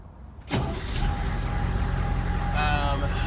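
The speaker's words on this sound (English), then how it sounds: "You let the wait light turn off, and then you start it." A 1992-93 AM General Humvee fires up on its keyed ignition with a sudden loud crank-and-catch. The engine settles straight into a steady, close idle that continues to the end.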